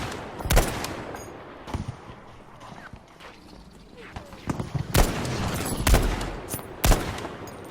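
M1 Garand rifle fire in the shooter game Battlefield V comes as loud, sharp single shots spaced about a second apart, some clustered near the end, over rumbling battlefield ambience.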